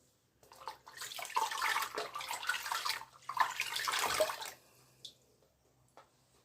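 Running tap water rinses off a gold face mask, a close, steady gush in two long stretches with a short break between, ending in a few faint splashes and drips.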